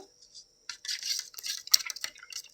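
A spoon stirs buttermilk made with water, curd, salt and fenugreek powder, giving quick, close clinks and scraping swirls that come in short irregular bursts after a brief quiet start.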